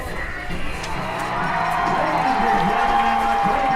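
A high school football crowd at the Quakertown–Pennridge Turkey Bowl cheers as the home team runs out, a loud sustained roar of voices and shouts that builds partway through, with a high whistle-like tone appearing late.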